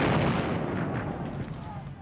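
Second World War artillery fire during the fighting around Caen, a dense, rumbling barrage of distant booms rolling continuously for two seconds.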